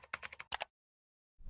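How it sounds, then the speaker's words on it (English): Fast typing on a computer keyboard gives a close burst of about nine crisp key clicks, then silence, then one more soft tap at the end. "press F2, and begin typing"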